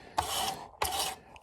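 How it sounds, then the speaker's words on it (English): A big sanding block is worked over a boat-building panel in two quick, close, raspy strokes with a brief pause between them, loud and alone. "you're going to take your nice big sanding block and you're going to be sanding"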